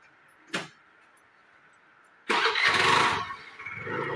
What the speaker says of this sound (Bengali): দাদার বাইকে স্কুটিতে স্টার্ট দিয়ে দিয়েছে